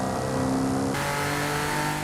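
A car engine in Forza Horizon 5 revs during upgrade work, a loud continuous mid-pitched drone whose tone shifts abruptly partway through.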